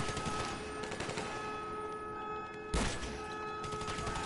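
Bursts of automatic gunfire in GTA Online on PS4, a dense rattling fusillade running throughout with a sharper, louder burst near the end, no talk.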